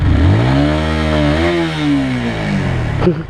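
Honda CBR 125 R motorcycle engine revving up under throttle and then easing back down, a loud, close, buzzy single-cylinder drone that ends with a brief clatter.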